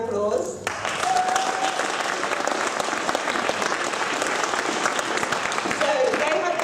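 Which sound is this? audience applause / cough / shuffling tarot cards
audience applause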